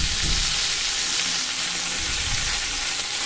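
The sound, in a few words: frying cut pointed gourd pieces in a pan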